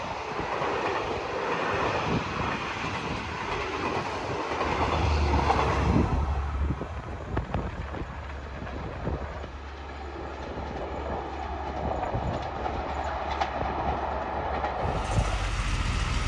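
A track maintenance train made up of a QSY locomotive and wagons rolls through Khlong Phai station in Thailand, a steady rumbling clatter of wheels over rails that holds at close range throughout.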